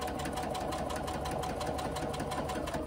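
A sewing machine runs steadily, stitching around a curved fabric edge, with a dense, even motor whir and rapid needle clatter throughout, close and unbroken.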